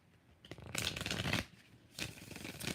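A tarot deck is shuffled in two bursts of close, crisp riffling and flapping, separated by a brief pause.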